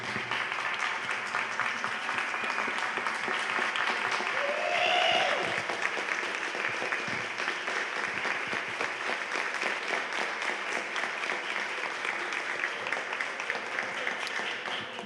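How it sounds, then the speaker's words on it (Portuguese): A standing audience applauds the 80th anniversary of the Teatro Experimental do Negro, with steady dense clapping that swells briefly and carries a faint whistle or cheer partway through, continuing evenly for the full stretch. "vamos de pé bater palmas para os 80 anos do TEM, para Eugênia Exposição e Instituto"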